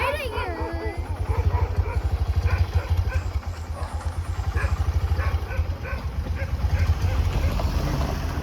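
A motorcycle engine idles and putters with a steady low throb during a woman's first bike riding lesson, while an instructor talks over it throughout.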